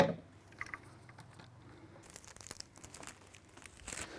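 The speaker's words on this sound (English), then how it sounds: "Now I'm ready to tape it together." Adhesive tape pulled and pressed around a column mold, with crinkly tearing and rubbing noises scattered over a quiet room, including a brighter burst of crackling partway through.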